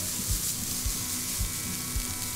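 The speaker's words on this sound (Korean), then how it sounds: "오이를 껍질 벗기고 볶으니까 색깔이 진짜 곱거든요." Peeled cucumber being stir-fried in a pan, a constant bright sizzle with a regular low thump of the spatula roughly every half second, close and steady.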